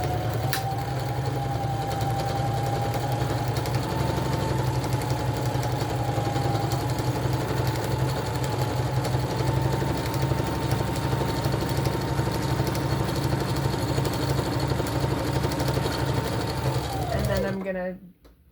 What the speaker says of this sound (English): And then you're just going to sew a couple inches. Then you're going to go back to lock that in place.